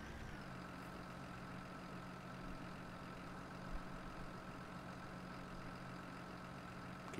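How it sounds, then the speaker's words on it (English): A tractor engine idles steadily in Farming Simulator 19, a constant low drone with a slight shift near the start, moderately close and unbroken, with no talking. "I don't know if this tractor will fit through this gate"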